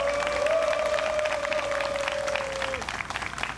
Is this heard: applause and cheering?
yes